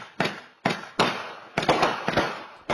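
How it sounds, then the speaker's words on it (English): Fireworks exploding at night over a city neighborhood: a string of sharp, loud bangs, each with a short ringing decay. They come in irregular bursts, several close together near the end, with a steady faint hiss between them. "by now nightly eruptions of fireworks"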